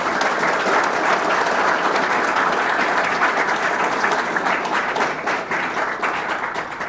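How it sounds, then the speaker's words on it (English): A crowd at a trade-certification pathway celebration (core, electrical and carpentry) gives loud, continuous applause throughout, evenly dense and slightly tapering at the close. "Round of applause."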